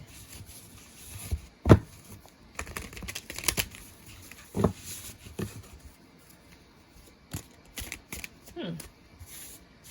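Cards being shuffled in short bursts of flicking and riffling, with soft rubbing between them and some talking nearby.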